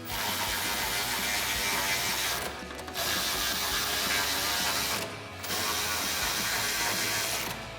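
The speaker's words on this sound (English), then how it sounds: "Next we can tighten down our mounting nuts on our other two brackets with our 13mm socket on our ratchet." Rapid, steady ratchet clicking from a 13mm socket tightening step-bar mounting nuts on a 2019-2025 RAM 1500, close and continuous, with two brief pauses between strokes.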